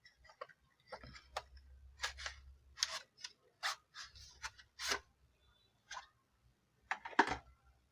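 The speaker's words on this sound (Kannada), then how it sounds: "ಇವಾಗ ಬಾಕ್ಸ್ನ ಓಪನ್ ಮಾಡೋಣ ಬನ್ನಿ." A Boat USB cable box is opened with a series of soft clicks, taps and rustles of cardboard and plastic, irregular and close, fairly quiet, with a faint low hum in between.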